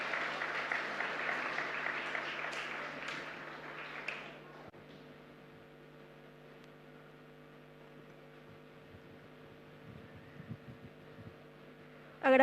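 A congregation applauds at a live-streamed Catholic Mass in a parish church in Asunción, a dense, fairly faint wash of clapping that fades out after about four seconds, leaving a low hum of room noise.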